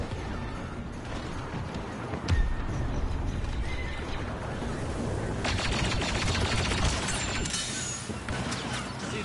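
Blaster cannon fire from a tank in Star Wars Battlefront 2 booms amid clattering, mechanical battle noise, with sharp heavy blasts and rapid bursts over a dense, loud combat din.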